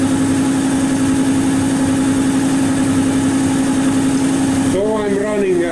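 A machine tool runs steadily at about 1300 RPM while cutting metal, giving a loud continuous hum with a strong steady tone that shifts and wavers near the end.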